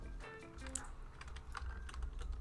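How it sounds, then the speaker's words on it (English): Rapid clicking of a computer keyboard being typed on continuously at close range, with quick irregular keystrokes and no voices. "I wouldn't be able to hear you over my keyboard."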